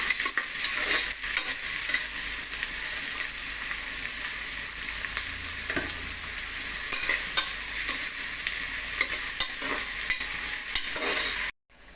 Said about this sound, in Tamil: அந்த வெங்காயம் வந்து ஒரு கலர் ஒரு நல்லா வதங்கணும் செவந்து வரணும்